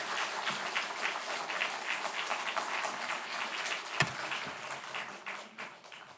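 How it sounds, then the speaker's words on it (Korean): Church congregation applauding to welcome a visiting pastor at a Sunday afternoon service, a steady wash of many hands clapping throughout, dense and even, tapering slightly toward the end. "우리 목사님 나오실 때 박수로 크게 한번 환영하십시다"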